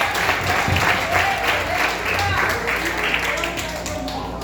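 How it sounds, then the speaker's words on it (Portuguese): A congregation applauds during a Portuguese-language church service, with steady, dense clapping that runs the full length and voices mixed in beneath it. "Aplaude a Jesus bem forte, meu Deus."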